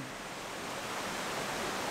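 A large waterfall gives off a soft, continuous broadband rush, faint and seemingly distant, unbroken and without any talking.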